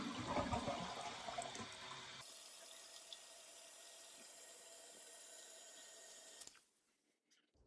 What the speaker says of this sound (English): I'll go ahead and flush it a few times just to make sure